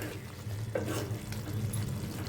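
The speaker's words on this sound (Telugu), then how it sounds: "ఇప్పుడు కొంచెం గరం మసాలా, కొంచెం కొత్తిమీర ఇలా మంచిగా కలుపుకొని" A cooked cauliflower, potato and pea curry is stirred together with garam masala and fresh coriander, soft scraping and stirring over a low simmering sizzle, close and continuous with no voices.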